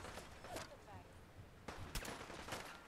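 In Fallout 4, plasma gunfire strikes a super mutant enforcer, with several sharp, quiet shots spaced irregularly over a faint, noisy game background.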